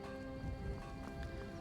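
A horse in the Elder Scrolls V: Skyrim video game gives steady, faint clip-clop hoofbeats within a dense, continuous game soundscape.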